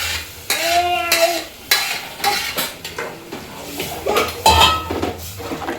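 Moong dal lentils stirred in a cooking pot, with a metal spoon scraping and clinking against the sides in repeated strokes, close up and fairly loud over a faint sizzle.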